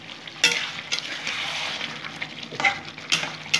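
Duck egg do pyaza with capsicum and onion is stirred in a sizzling frying pan, a soft continuous frying hiss broken by several sharp scrapes and clinks of the spoon against the pan at irregular intervals.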